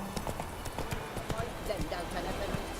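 Hooves of a horse in the Witcher 3 video game clop in a quick, steady gallop rhythm at moderate volume, while a person talks over the game sound.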